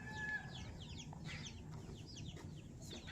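Chickens kept in cages on a plantation, clucking softly and repeatedly at a distance over a low rumbling background, with a few sharper calls mixed in and no one speaking.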